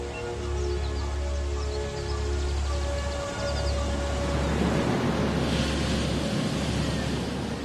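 Ocean waves breaking and washing in a steady, loud rush of surf with wind noise and a deep low rumble, continuous throughout with no voices.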